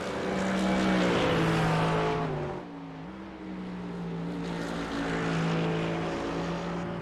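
A Mercedes race car at Spa in endurance GT racing, its throaty, grunty engine roaring loud and close, the pitch dipping briefly as it lifts off and then climbing again under power.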